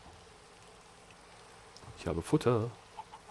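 Chickens clucking in Minecraft, a short burst of several quick clucks and squawks near the end after a quiet stretch, with someone speaking briefly just before them.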